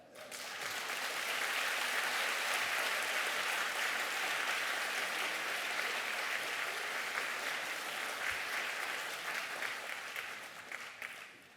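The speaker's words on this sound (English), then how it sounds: "please join me in giving a warm round of applause" Sustained applause from a lecture audience, dense and steady for about eleven seconds before tapering off at the end, with no voices over it.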